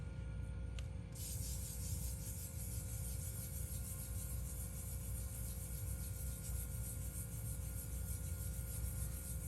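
Fine 2000-grit sandpaper rubbing steadily over a nitrocellulose finish on a Gibson Les Paul guitar, a continuous soft close scratching with no pauses or voices.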